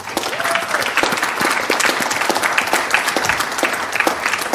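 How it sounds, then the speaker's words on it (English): A crowd applauds steadily at a cybersecurity conference panel in Seattle, with dense, continuous clapping that stays loud for several seconds. "Round of applause to FutureCon."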